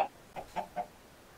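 A few soft, short clucks from video-game chickens sound in a quick, uneven sequence inside a kelparium, fairly quiet and alone.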